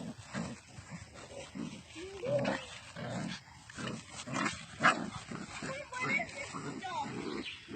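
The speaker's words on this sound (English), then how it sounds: "The dog's growling." A dog growls and rumbles low in short repeated bursts, fairly close, mixed with people talking over it.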